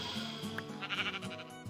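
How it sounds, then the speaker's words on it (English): Sheep in the Minecraft video game bleating in a few short, wavering calls, close and clear over a quiet background. "And we got a sheep."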